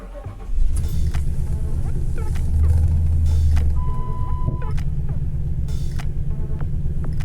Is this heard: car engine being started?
yes